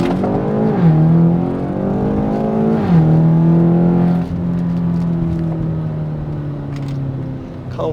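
BMW X5M F85 engine driving in comfort mode, a loud, steady drone that climbs in pitch, dips briefly at two gear changes, then settles into an even cruise, with no talking.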